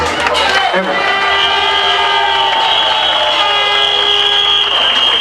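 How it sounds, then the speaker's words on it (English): A crowd at a live concert in Birmingham, UK, cheers and applauds the band in a loud, continuous roar, with piercing whistles threading through the noise. "give the band a round of applause"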